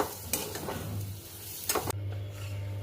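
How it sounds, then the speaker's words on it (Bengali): Kachori filling is stirred in a pan. A spatula scrapes in a few soft strokes over a low, steady hum, with one sharper scrape near the end. "2 মিনিট নাড়াচাড়া করলেই দেখো কচুরির পুর একদম রেডি হয়ে যাবে"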